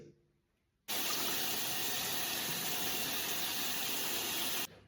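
A bathroom sink faucet flowing at about seven litres per minute switches on abruptly into a loud, steady gush of running water that continues, then cuts off at the end.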